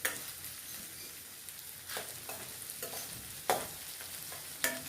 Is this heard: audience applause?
no